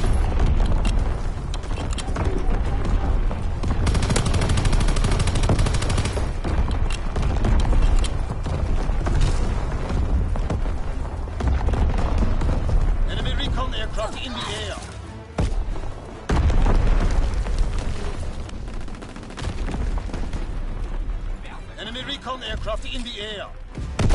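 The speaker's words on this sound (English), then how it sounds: "Enemy bomb incoming. Get to cover. Incoming enemy artillery." Continuous enemy artillery bombardment and gunfire in a video game roar loudly throughout, dense booms and blasts with heavy low rumble, while game voice callouts break in over the barrage.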